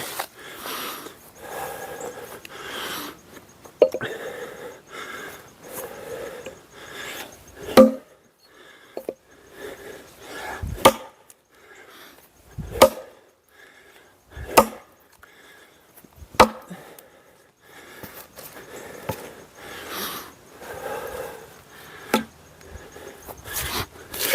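An axe chops wood in a workshop while a custom handle is being fitted, with sharp, irregular thwacks spaced a few seconds apart between softer scraping and handling sounds, close and alone.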